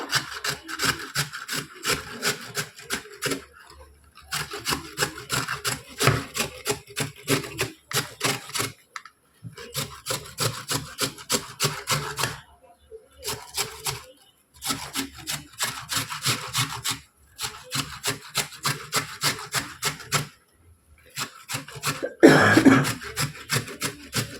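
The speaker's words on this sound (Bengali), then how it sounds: "একটু আলু ঘষে নেবো" A raw potato is grated by hand with rapid, rhythmic rasping strokes in repeated bursts separated by short pauses, close and fairly loud, ending with a sharper clatter.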